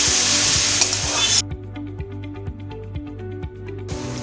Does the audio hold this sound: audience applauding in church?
no